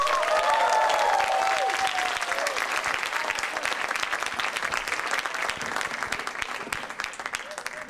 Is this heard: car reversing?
no